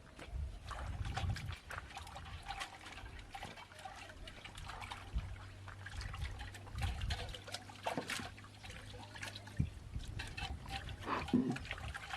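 Water trickling and splashing faintly into a drum in a village, with irregular gurgles and knocks over a quiet background.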